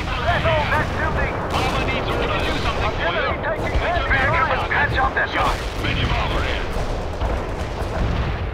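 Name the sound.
artillery strike hitting enemies in video game World in Conflict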